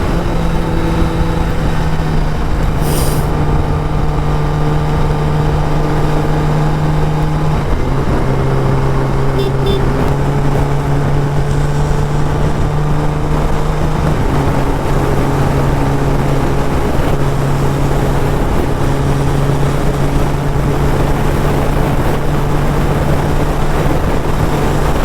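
Kawasaki ZX10R motorcycle riding with a pillion passenger, a loud steady engine drone throughout with pitch dropping and climbing at gear changes around the eighth and fourteenth seconds, wind noise constant, no talking.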